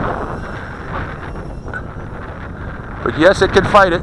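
A 15-knot wind blows outdoors, a steady, loud rumble buffeting the microphone throughout, with a voice speaking over it near the end.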